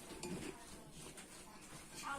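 Ingredients for a vegetarian dish being stirred together in a pot, with soft clinks and scrapes of utensil against cookware, close and fairly quiet, with faint talk in the background.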